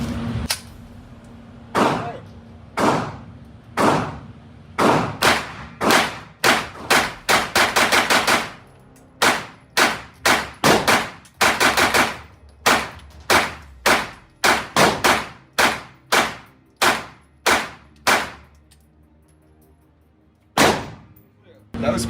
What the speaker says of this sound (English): I'll do a full mag dump here and we can prove it.